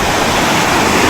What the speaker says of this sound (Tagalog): Medyo maalon po dito mga kabungot ngayon.